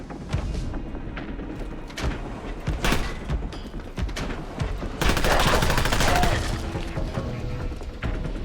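Gunfire in the video game Fallout London: a dense run of loud shots and bursts, sharp cracks and booms piling into sustained automatic fire near the middle, with little pause between volleys.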